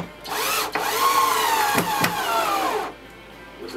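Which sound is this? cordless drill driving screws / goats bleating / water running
cordless drill driving screws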